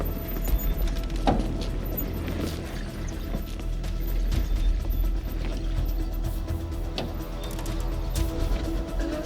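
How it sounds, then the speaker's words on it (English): A Toyota Land Cruiser rolls over small dips on an overland track, its suspension giving a few dull clunks through a steady, close cabin rumble of road and drivetrain noise, with no talking. "There is a clunking noise going through small dips."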